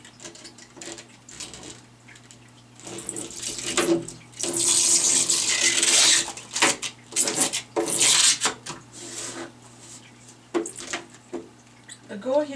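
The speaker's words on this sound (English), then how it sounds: "Alright, let's get the squeegee." Squeegee pressed across privacy window film, forcing water and trapped bubbles toward the window seam; wet rubbing and squishing strokes come in bursts, loudest midway, with talk in between.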